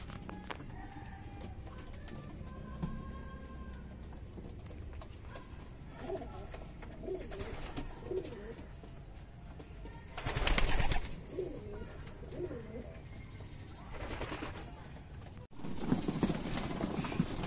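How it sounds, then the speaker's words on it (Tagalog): Soft, low pigeon cooing murmurs on and off against a steady background hum, with a few louder bursts of rustling or flapping noise. "Ito mga kalapatids, konting update lang sa ating mga ibon."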